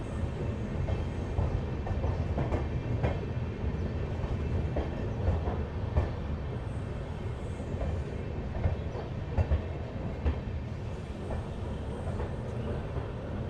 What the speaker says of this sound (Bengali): এই হচ্ছে সেই জ্ঞানেশ্বরী এক্সপ্রেস